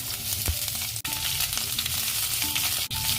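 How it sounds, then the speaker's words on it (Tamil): Onions, green chillies and curry leaves saute in hot oil in a pan, a steady close sizzle with faint scraping of stirring and no talk. "இந்த மாதிரி நல்லா வதக்கி விடலாம்"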